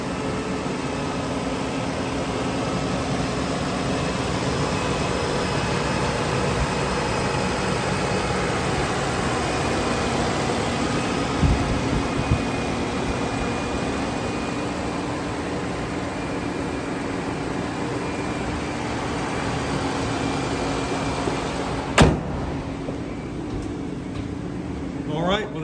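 A Lexus 3.3-liter engine idles quietly, producing a smooth, constant low hum with a faint tonal whine. A couple of brief, soft knocks sound near the end.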